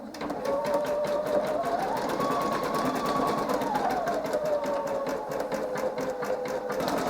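A Singer EM9305 embroidery sewing machine stitches steadily at close range, its loud, even motor hum carrying a rapid needle rhythm that rises and falls slightly in pitch, with no talking.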